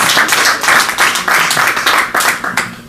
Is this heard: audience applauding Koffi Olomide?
yes